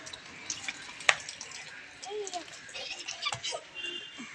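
Tap water runs in a steady, close rush on an open rooftop, broken by a couple of sharp knocks and a few faint bird chirps.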